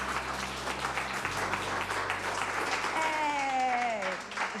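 A support group applauds as Nichols receives a three-year sobriety chip, a steady wash of clapping from a small crowd that carries through, with a voice rising over it near the end.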